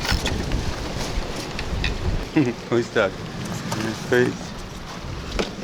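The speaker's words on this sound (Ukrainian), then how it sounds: "І дощ, і вітер, і штормить." Broadband wind and rain noise of a sea storm on the Black Sea near Odesa roars steadily, with a person laughing and speaking briefly over it partway through.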